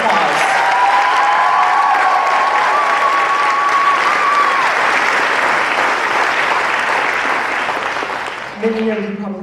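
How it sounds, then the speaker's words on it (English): Sustained audience applause at a school musical theatre show, loud and steady throughout, with a few whistles or voices rising above the clapping before it fades near the end. "We're going to give them another round of applause."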